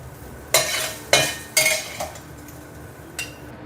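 A spatula scrapes sautéed mushrooms from a hot wok in four or five quick metallic strokes about half a second apart, close and loud over a faint sizzle.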